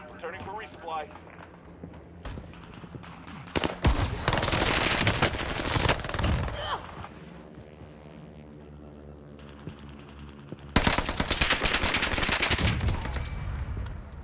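Weapon fire from a low-recoil gun in Warzone Caldera crackles in rapid bursts, loud stretches of automatic shots broken by quieter moments, with a voice talking over parts of it.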